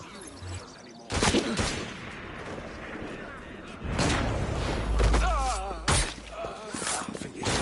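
Gunshots in a video game fired in a quick draw-and-shoot duel: a few loud, booming blasts spaced apart, close and punchy, with game voices and music around them.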